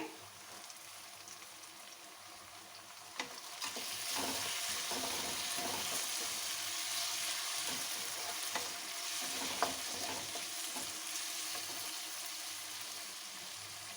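Onions sizzle and fry steadily in a pan for a capsicum curry, a quiet continuous hiss with a few faint clinks from stirring.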